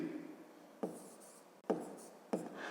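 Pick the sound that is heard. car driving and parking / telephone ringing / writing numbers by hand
writing numbers by hand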